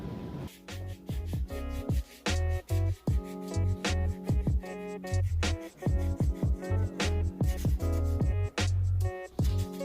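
Repeated rough rubbing strokes in quick bursts, close and loud, as a 3D print coated with XTC-3D is hand sanded, with brief pauses between strokes.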